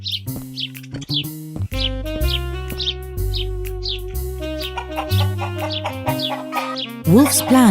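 Cartoon chickens cluck and squawk in a chicken coop, with a series of short, bright calls over a playful musical backing that swells near the end.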